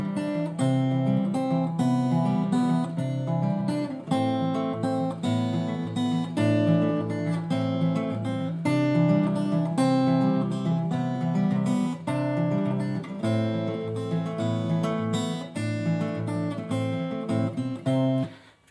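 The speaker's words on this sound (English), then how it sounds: "there is one little bit of finger picking that I really like, and it's called clawhammer" Acoustic guitar fingerpicked in a clawhammer, Travis-style pattern playing a song, steady rolling arpeggios close to the mic, continuous for the whole stretch and ending abruptly, with no talking.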